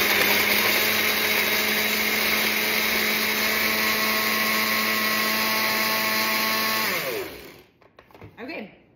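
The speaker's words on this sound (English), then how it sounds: "we're just gonna blend this up. Now forgive the noise for a second. My blender is a little bit of a relic." An old kitchen blender whirs loudly and steadily while blending a greens powder drink, then winds down and cuts off near the end, followed by brief faint handling noises.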